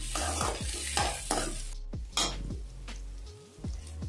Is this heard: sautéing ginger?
yes